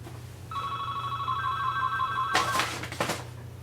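An indoor telephone rings with a steady electronic tone for about two seconds, then a short clatter follows as it is reached, against a low constant hum.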